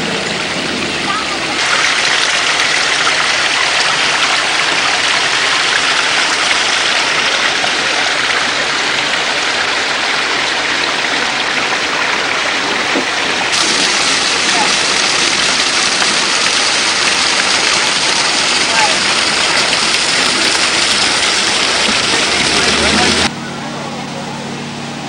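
A waterfall in a transformed yard makes a steady, dense rush of falling water, loud and close and unbroken throughout, shifting slightly in tone partway through before dropping away near the end.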